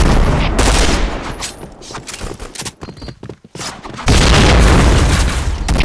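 Explosions and bursts of gunfire from the Point Blank shooting video game, a loud boom up front, then scattered shots and a dip, followed by another heavy blast and sustained firing near and loud.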